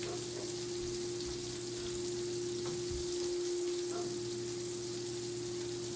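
Costco sweet potato fries cook in a pan with a steady, even sizzle that runs unbroken at low volume over a faint background hum, with no talking.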